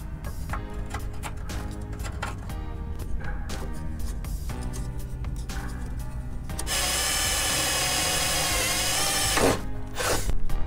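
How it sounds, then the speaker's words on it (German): A power drill bores holes to mount a step on a Fiat Ducato van, running in bursts with ticking pauses, then settling into a loud, steady high whine for several seconds near the end, with no talk. "So, jetzt noch anzeichnen und ein bisschen bohren."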